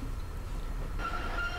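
A train in Train Simulator 2016 rumbles with a steady low mechanical drone, then a higher tonal whine rises as it begins to move off, continuous and fairly close.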